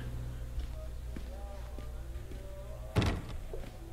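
A single dull thud of a door swinging shut in the horror game The Park, standing out above a low, steady background hum.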